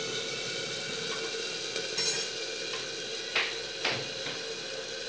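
Tomatoes, cut into large chunks, fry in a pan for a tomato chutney with a steady close sizzle, broken by a few sharp scrapes and clinks of stirring.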